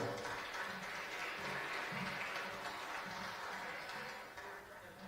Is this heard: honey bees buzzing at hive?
no